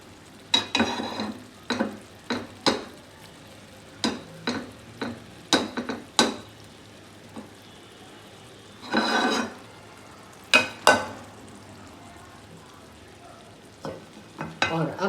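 Ginger and curry leaves fry in hot oil for urad dal, with a series of short, close sizzling bursts as the pan is stirred, separated by quiet pauses.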